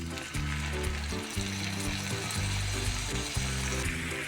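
Goat head cooking water hits a hot frying pan of goat head fry, producing a steady bubbling sizzle with short repeating gurgles, fairly quiet and close, with no voices.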